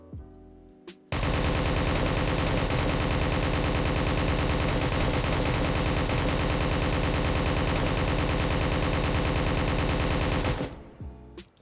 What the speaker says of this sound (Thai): เดี๋ยวยิงให้ดูใหม่แล้วกัน